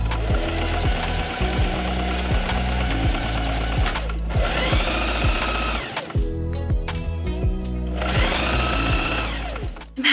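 A sewing machine stitches the side seams of a cocktail dress, running loud and close in rapid mechanical bursts with short pauses between runs.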